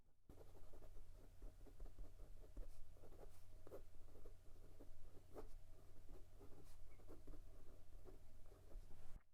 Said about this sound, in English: The nib is smooth with a good amount of feedback that you might be able to hear.